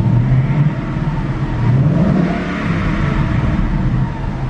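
A black 2014 Ford Mustang GT with 115,000 miles idles and revs steadily up close, its V8 rumble rising briefly in the middle before settling back, with no talking.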